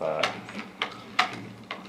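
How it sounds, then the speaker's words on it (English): A hand pump sprayer filled with permethrin insecticide is pumped by hand, making four evenly spaced mechanical clicks and strokes up close, with faint room noise between them. "So let's do several pumps to get it going"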